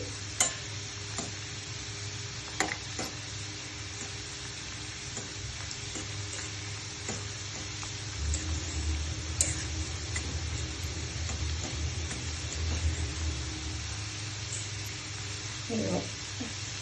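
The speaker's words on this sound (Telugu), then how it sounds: "ఇలాగా వేయించుకొని గోల్డెన్ కలర్ వచ్చేంత వరకు వేయించుకోవాలి." Jaggery sweet shells (bellam gavvalu) fry in hot oil while being stirred, a steady soft sizzle running throughout with occasional ticks and scrapes of the spoon against the pan.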